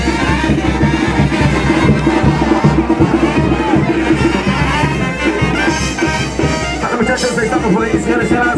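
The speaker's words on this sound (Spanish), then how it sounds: "¡Venga el aplauso, sí señor!" Dense crowd roar and cheering at a feria jaripeo bull-riding event, continuous and loud throughout with clapping and shouting voices mixed in, swelling steadily without pause.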